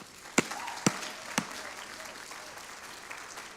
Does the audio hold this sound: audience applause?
yes